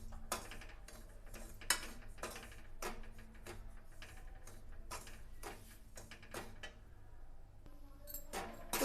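Semolina being stirred and roasted in hot ghee in a pan gives quiet, irregular clicks and scrapes of a spoon against metal, spaced unevenly and alone without talk.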